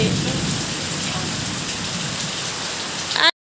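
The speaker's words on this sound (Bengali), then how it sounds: "প্রচুর বৃষ্টি হচ্ছে" Steady heavy rain pouring down, a dense continuous roar of drops that stops abruptly at the end.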